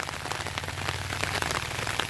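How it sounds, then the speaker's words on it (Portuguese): Rain falls steadily on a garden in northeastern Brazil, a dense close patter of drops hitting leaves and surfaces with a low steady hum underneath, and no voices. "mas começou a chover, mas graças a Deus, né?"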